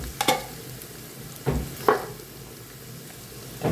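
Onions stirred and frying in a pan for chicken angara, a low steady sizzle with a few sharp scraping stir strokes, close and moderately loud, no talking.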